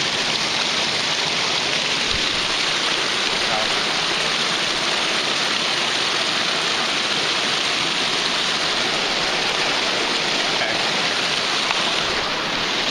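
Mountain stream water rushing steadily while a canteen is filled on a backpacking trip: a continuous broad hiss and splash, loud and close, unbroken throughout with no talk.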